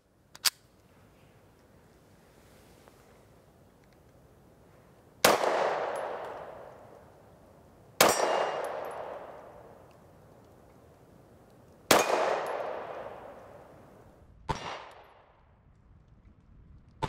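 A Kimber R7 Mako pistol fires a series of loud, sharp single shots spaced several seconds apart, each followed by a long echoing outdoor decay, with a quieter shot near the start.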